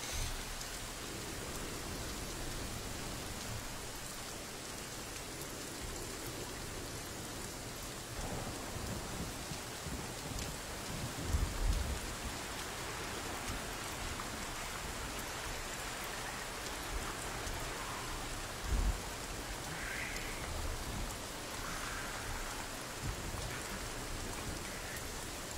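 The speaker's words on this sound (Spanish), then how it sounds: "escucha muy real la lluvia" Steady rain pours down evenly in the video game Sons of the Forest, a dense wash of patter with a couple of low thumps, no voices.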